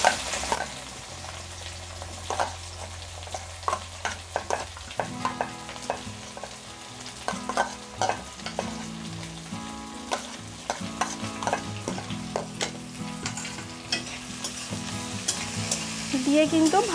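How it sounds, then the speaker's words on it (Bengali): Chopped ginger and onion frying in a wok, a continuous sizzle with frequent clicking stirs and scrapes, close and moderately loud with no talking. "এবার আমি কেটে রাখা আদার টুকরোগুলো দিয়ে দেবো কড়ার মধ্যে। আর তার সাথেই দিয়ে দেব পেঁয়াজ কুচি।"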